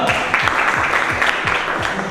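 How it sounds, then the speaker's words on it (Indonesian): A room of participants in an academic coaching session clapping for the audio group, brief steady applause close by with a faint voice underneath. "Oke, tepuk tangan untuk kelompok audio."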